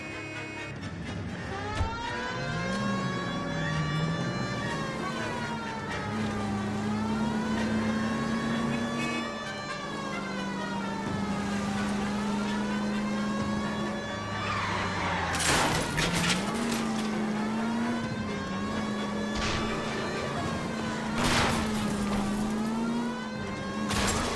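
A car driving in L.A. Noire, its engine holding a steady drone that rises and falls with gear changes, with bursts of noise from other traffic or collisions.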